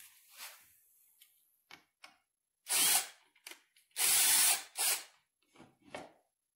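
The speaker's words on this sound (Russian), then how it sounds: "В этой детали есть намеченные сверления, куда вкручиваются наши шурупы." Wood screws driven into pre-marked pilot holes in a wooden crib pendulum part, probably with a power screwdriver: several short bursts, two of them longer whirring runs, with scattered ticks and clicks between them, close and fairly loud, with no talking.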